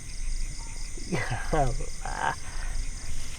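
Frogs croak at night near water during a traditional fishing trip, short raspy calls in two or three bursts over a steady bed of insect and night noise, fairly close by.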